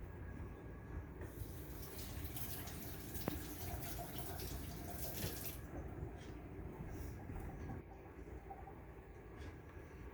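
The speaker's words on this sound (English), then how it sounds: "I'm just gonna wash my hands just to dump this out." Running tap water splashing over hands being washed at a kitchen sink while making wheat berry granola, a steady broadband rush lasting throughout, fairly close and unbroken, with no talking.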